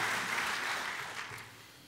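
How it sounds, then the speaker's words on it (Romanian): A congregation at a baptism service applauds guests standing to be welcomed, a dense burst of clapping that starts full and gradually fades over two seconds. "Aplaudați-i!"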